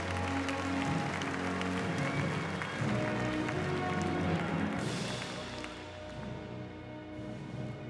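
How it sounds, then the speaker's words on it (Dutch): Applause from an audience at a championship show for young stallions in an indoor hall, a sustained wash of clapping that fades toward the end, with some voices and hoof thuds underneath. "Met applaus."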